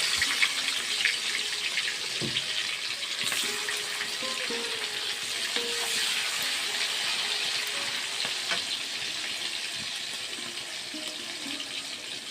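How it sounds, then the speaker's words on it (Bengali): Onions dropped into hot oil fry with a steady, bright hiss and crackle for a jackfruit curry, close and continuous with occasional utensil knocks and faint spatters throughout. "তেলটা গরম হয়ে গেছে আমার, পেঁয়াজগুলো দিয়ে দিচ্ছি।"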